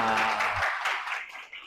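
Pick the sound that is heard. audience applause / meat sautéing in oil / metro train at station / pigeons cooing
audience applause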